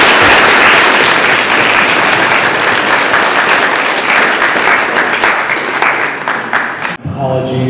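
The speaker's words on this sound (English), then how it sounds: "please join me in giving them a round of applause" An audience at a chamber of commerce candidate forum applauds the candidates: loud, dense, sustained clapping that fades out after about seven seconds.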